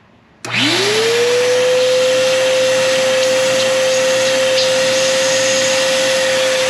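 A shop vacuum hooked to the engine oil filler of a BMW, drawing suction through the crankcase to hold back oil, kicks on sharply and spins up into a loud, steady whine that continues without talk.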